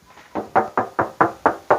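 Seven sharp hollow knocks on the metal tailgate of a used car, type GL, come close and loud in an even rhythm of roughly four per second.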